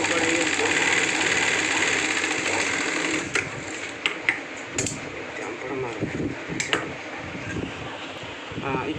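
A sewing machine runs steadily while stitching the cloth of a school boy's shorts, its continuous whirring hum carrying at close range. The machine then stops and cloth is handled and shifted about in several short rustling bursts.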